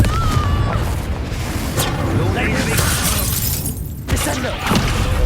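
A Confringo fire-blast spell bursts in Hogwarts Legacy, a loud dense crackling blast with shattering debris over a rumbling low end, continuing through the clip amid game effects.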